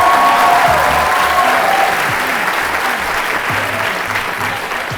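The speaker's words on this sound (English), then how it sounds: "Let's give them a big round of applause." A talk audience at a State of the Arts event gives a big round of applause, dense, steady clapping filling the room close up for the whole stretch, with murmured voices underneath.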